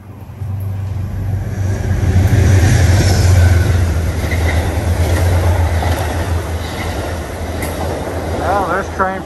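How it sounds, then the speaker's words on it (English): Amtrak train 49, bound for Chicago from New York Penn Station, rumbles loudly past Croton-Harmon station with a heavy low drone, rattling cars and a brief wheel squeal near the end. "there's train 49 on its way to Chicago from New York Penn Station."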